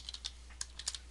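Quick keystrokes on a computer keyboard as a URL is typed, a burst of light, close clicks in an uneven rhythm over a low steady hum.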